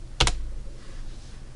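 A short burst of typing on a computer keyboard as a long password is entered, a quick cluster of close, crisp key clicks near the start, then quiet room tone.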